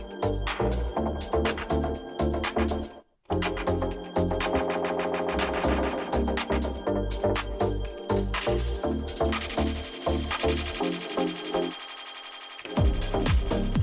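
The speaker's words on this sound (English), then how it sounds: "After, dub echo." Dub echo effect on a Pioneer DJM-A9 DJ mixer, applied to a rhythmic electronic track. Punchy beats and tones repeat in decaying echoes, with a brief dropout partway through and the pattern fading near the end.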